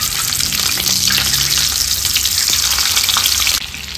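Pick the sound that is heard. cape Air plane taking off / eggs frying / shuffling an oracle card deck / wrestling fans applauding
eggs frying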